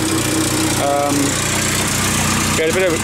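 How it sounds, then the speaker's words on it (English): A Ford Sigma engine fitted into a converted car idles steadily, a close, continuous low mechanical rumble that holds even throughout, with brief faint tonal sounds drifting over it. "It's idling away quite nice now."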